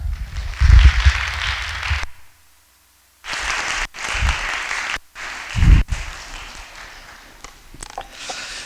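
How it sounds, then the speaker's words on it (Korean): A church congregation claps in bursts of applause at a revival service, breaking off into a few seconds of silence before clapping resumes, loud and close. "크게 우리 환영하는 박수로 맞이하겠습니다"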